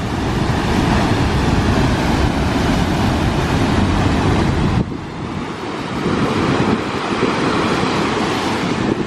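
Hooker Falls in New Zealand roars as a steady, loud broadband wash of falling water, continuous and close with wind buffeting the microphone, dipping slightly in intensity about halfway through.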